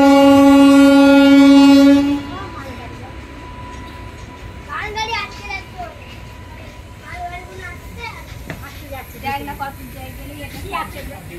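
An express train at Rampurhat station sounds a loud, sustained horn. The horn is followed by the rolling rumble and clatter of the train passing, while people talk nearby.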